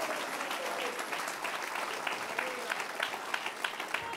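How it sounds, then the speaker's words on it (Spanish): A congregation claps in a Spanish-language evangelical church service, giving dense, sustained applause that fills the room evenly throughout, with a voice faintly present underneath. "Si le vale ese aplauso, déselo con ganas al Señor"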